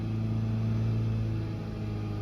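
Engine of a Nissan Juke running at steady revs, a continuous close mechanical drone with strong low humming tones, no talk over it.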